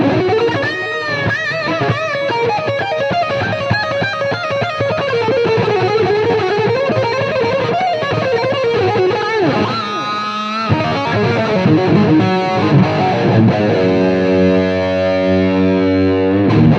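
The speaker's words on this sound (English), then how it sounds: "the lead channel is perfect for that flat out crank Marshall lead tone." Electric guitar through the lead channel of a Voodoo Amps Senes Mod amplifier, cranked for a Marshall-style tone, playing a heavily distorted, sustained lead line of bends and runs that ends on held chords, loud and continuous with no talking.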